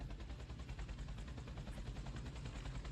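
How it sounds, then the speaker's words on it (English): A helicopter in the space game Space Engineers chops steadily and loudly, fast rotor thumping that fills the whole stretch with a dense, even drone. "I hear a helicopter."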